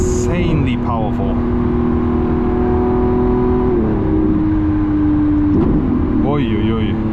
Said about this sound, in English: Nice downshift.